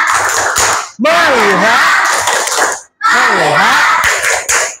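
Schoolchildren in an Indonesian primary classroom perform a rhythmic focus clap, chanting loudly in unison with sharp hand claps marking the pattern, repeated twice with a short pause between.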